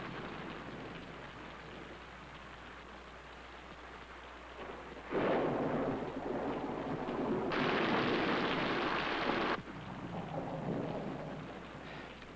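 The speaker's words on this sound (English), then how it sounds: "Is that rain?" Steady rain pours throughout, with heavy bursts of thunder rumbling in partway through and swelling louder before easing back into the downpour.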